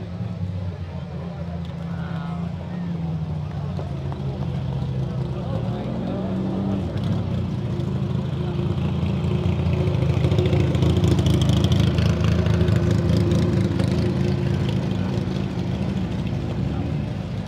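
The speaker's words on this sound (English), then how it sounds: "all these amazing cars started coming in" Several supercar engines rumble and idle nearby in the Goodwood Festival of Speed 2023 paddock, swelling louder as vehicles roll in, with muffled voices mixed into the low mechanical drone.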